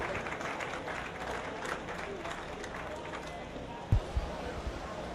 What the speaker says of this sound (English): Let's give those young men a round of applause.